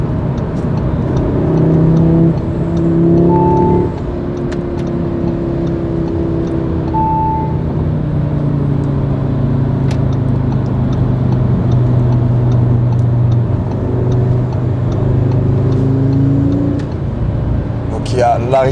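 A powerful car engine accelerating, its tone rising and falling through gears with a steady strong drone, while someone talks over it throughout.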